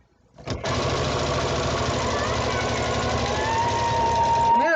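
A sewing machine stitching a fabric tube runs at a steady fast rhythmic whir and clatter for about four seconds, close and loud, after a short start-up.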